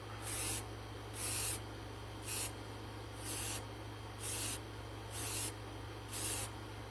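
Automotive spray paint hisses onto a Bruce shark resin kit in seven short, loud bursts spaced about a second apart, each a bright airy spritz over a steady low background hum.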